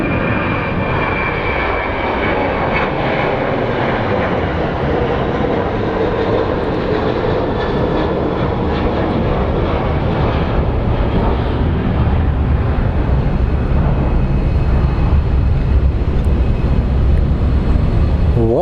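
American Airlines Boeing 737 taking off at Phoenix Sky Harbor International Airport, a loud continuous jet engine roar with broadband rumble that stays steady and strong throughout, building slightly toward the end, with no talk.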